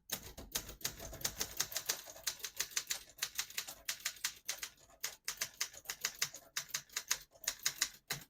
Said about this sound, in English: It's probably the most durable typewriter ever produced, with all the best parts.